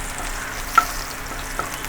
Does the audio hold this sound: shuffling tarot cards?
no